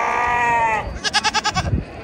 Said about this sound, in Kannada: ಇಲ್ಲಿ ಮೇಕೆನೂ ಸಹ ಇದೆ.